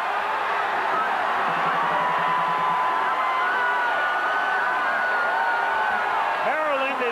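A college football crowd at Maryland during the 1983 North Carolina game, a dense wall of roaring, whooping and yelling that holds steady throughout, loud and sustained, with voices shouting above the mass.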